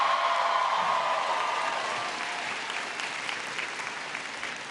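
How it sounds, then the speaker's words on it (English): A crowd applauds after an introduction at a speech by President Obama, loud dense clapping that starts strong and slowly fades over a few seconds, with a faint cheer early on. "can everybody please give Elizabeth a big round of applause?"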